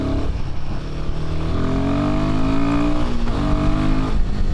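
A Himalayan 450 motorcycle pulls hard on the road, its engine note rising steadily through second gear, dipping at the shift into third and climbing again, loud and close over wind noise.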